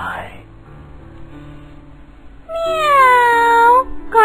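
A voice imitates a cat with one drawn-out, rising-then-falling meow, loud and close, following a brief murmur and quiet pause.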